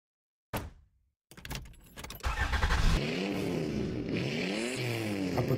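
A car door thuds shut in quiet surroundings, then the engine starts and revs, its pitch rising and falling as the car pulls away.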